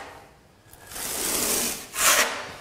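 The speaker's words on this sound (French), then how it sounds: "j'étale sur un petit carré. Alors toujours pareil, en appuyant bien sur la spatule." Steel spatula pressed firmly and spread across a small square of waxed concrete on a floor, giving two close, dry scraping strokes, the second one brighter and rougher.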